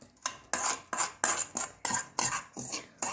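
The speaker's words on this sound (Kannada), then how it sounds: "ಅದೇ ಸೇಮ್ ಒಗ್ಗರಣೆಯನ್ನು ಚಟ್ನಿ ಕೂಡ ಮಿಕ್ಸ್ ಮಾಡಬೇಕು" A spoon works tempering and chutney into dhokla batter in a bowl. About nine rhythmic strokes sound as bright, close scraping clinks against the bowl, with no voices.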